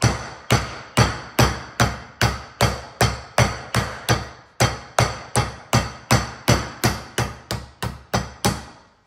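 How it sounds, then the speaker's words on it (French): A meat mallet pounds chicken cutlets flat in a kitchen, with about two dozen sharp, evenly spaced whacks in a steady rhythm. The blows are close and loud, and no one speaks. "je prends un marteau pour les aplatir un tout petit peu plus"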